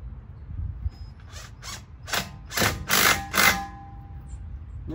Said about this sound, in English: So we're going to tighten the screw up.